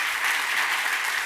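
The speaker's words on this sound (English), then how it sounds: "Round of applause for Bryant." Audience applause at a brewing co-founder talk, a dense, even wash of clapping from a crowd that holds steady across the moment.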